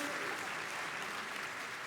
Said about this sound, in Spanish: Denles un aplauso